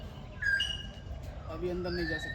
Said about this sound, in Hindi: हाँ कोयल की आवाज़ आ रही है,